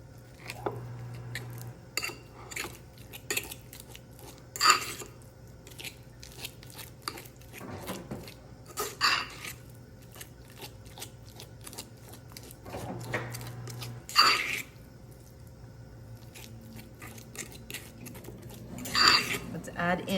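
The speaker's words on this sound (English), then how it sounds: "Let's mash this up." Falafel mixture being mashed with garlic in a bowl, with soft scraping, squishing and clinking of a utensil against the dish, under intermittent talk.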